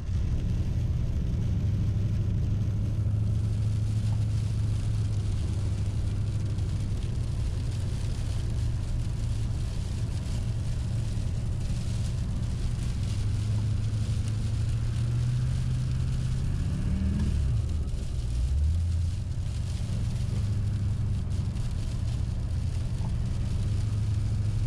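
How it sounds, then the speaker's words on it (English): A Duramax diesel truck engine revs steadily and loud for the whole stretch, with a wavering droning whir and a pitch dip and rise near the end, heard alone without any talk. "Wastegate blowout, mate."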